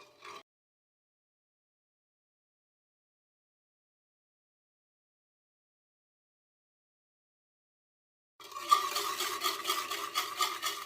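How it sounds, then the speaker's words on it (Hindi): Homemade yogurt being whisked in a bowl, a quick rhythmic scraping beat that starts after a long silence and carries on steadily to the end. "तो दही को मैंने यहाँ पे अच्छी तरह से फेंट लिया है।"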